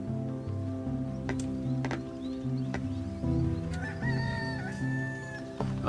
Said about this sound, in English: Oh, there's a rooster crow.